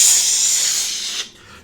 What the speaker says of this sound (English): start to crackle with energy, and that ringing sound that I played gets louder and louder in the room.